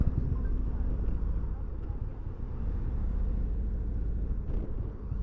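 Indian Roadmaster Dark Horse air-cooled motorcycle slowing on engine braking, a steady low engine rumble mixed with wind buffeting the microphone throughout.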